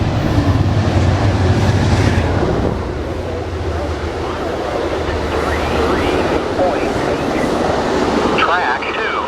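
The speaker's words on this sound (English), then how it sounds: "Here comes Amtrak." An Amtrak train rushes past up close, its loud rumble and rattling wheel noise peaking early and then easing to a lighter clatter, with people chatting nearby.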